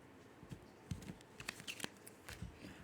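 A deck of tarot cards is shuffled by hand, giving soft, quiet, irregular riffling and patting clicks close by with no voices.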